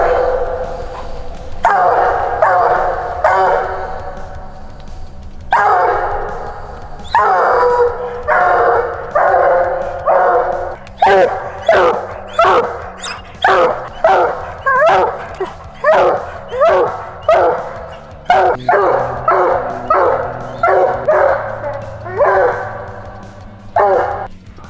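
An 11-month-old hunting dog pup bays at a treed animal about 200 yards into the woods at night, with a long run of repeated barks and howls in a steady, insistent rhythm, loud and carrying.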